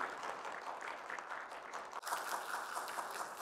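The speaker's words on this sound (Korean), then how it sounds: "큰 박수 부탁드리겠습니다." Audience applause at a home healthcare center's performance-sharing event held in a senior welfare center hall, a steady wash of clapping that continues throughout, moderately distant and even.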